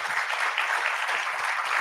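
An audience at a summit of Jewish leaders applauds the panelists, a steady, even patter of many hands clapping with no pauses.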